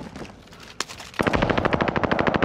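Machine gun fire in Call of Duty: Modern Warfare, starting with a few scattered distant shots, then a loud, close, rapid automatic burst that continues to the end.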